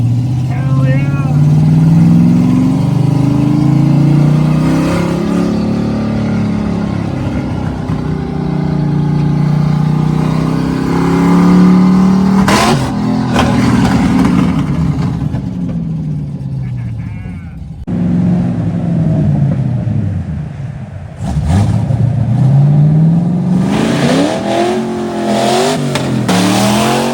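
A rough-running classic car on its first drive revs repeatedly, the engine note rising and falling through gears at close range, with someone talking and cheering over the engine.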